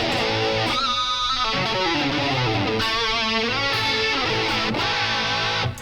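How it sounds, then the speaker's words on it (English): Electric guitar played through heavy distortion, thick sustained chords and bending notes filling the whole stretch, loud and dense. "so now I've got like a heavier distortion pedal"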